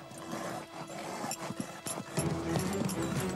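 Hooves of Hugo, a riding horse being schooled through a half-pass, clip-clop in a steady rhythm close by, with faint background noise and no clear talk.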